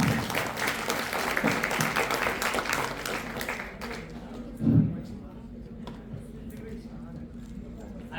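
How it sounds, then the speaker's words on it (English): An audience at a college induction event applauds briefly as a speaker is invited on stage, and the clapping fades after a few seconds into quieter room sound with a few thumps. "Let's give a big round of applause as we invite Sanmai onto the stage."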